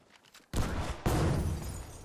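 Gunfire at an enemy by a window in Battlefield V Firestorm, two loud, close blasts about half a second apart, each followed by a dense sustained rattle of shots.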